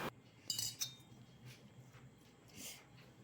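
A metal ladle scrapes and clinks against a pot while hot rice is mixed with avakaya mango pickle, with a couple of quick, close clinks followed by softer, fainter scraping.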